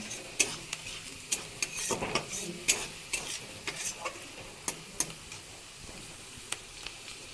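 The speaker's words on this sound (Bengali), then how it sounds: "কাঁচা ধনে যাতে একটু ভালো গন্ধ ওঠে তার জন্য একটু ভেজে নিচ্ছি।" Fresh coriander frying in a pan for a Bengali mixed vegetable sabzi: a steady sizzle of hot oil under repeated sharp ticks and scrapes from a spoon stirring the pan, close and moderately loud, with no talking.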